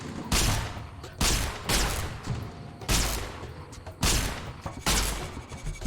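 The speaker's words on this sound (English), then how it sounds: "I think the gun is misfiring now" Gunfire in Fallout: New Vegas from a misfiring gun: about six heavy, booming shots spaced roughly a second apart, each with a sharp onset and a fading tail, loud and close, with no talk.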